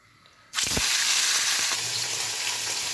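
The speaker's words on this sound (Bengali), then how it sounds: "কড়াইতে বেশ কিছুটা পরিমাণ সর্ষের তেল গরম করে নিয়েছি এইবারে এক পিস করে মাছ দিয়ে আমি ভেজে নেব" Fish pieces drop into hot mustard oil in a pan, setting off a sudden loud sizzle that then holds as a steady, close crackling hiss.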